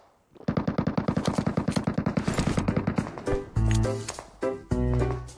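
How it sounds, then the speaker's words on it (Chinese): Rapid machine-gun fire from a shooter video game rattles in a steady, evenly spaced stream, then gives way to a few heavier, separate shots and short bursts, fairly far off and moderately quiet. "不过左边还有枪声，怕偷袭"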